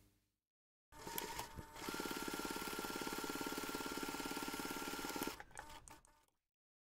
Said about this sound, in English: you can take this to the machine and we're going to top stitch along that finished seam